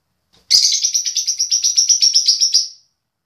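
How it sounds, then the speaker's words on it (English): A bird close by gives a loud, high, rapid run of about fifteen evenly spaced chirps lasting around two seconds, alone against silence. "Loud bird."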